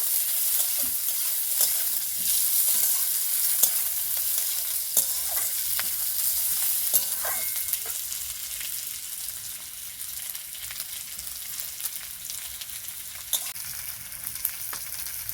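Sliced onions fry in hot oil in a pan for a Bengali pona fish curry, a dense, continuous hiss and sizzle with occasional sharper pops and scrapes of stirring, close and steady throughout.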